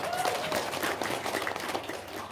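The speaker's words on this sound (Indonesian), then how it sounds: "Tepuk tangan dong." An audience applauds at an indoor gathering, a steady dense patter of many hands clapping at moderate level without pause.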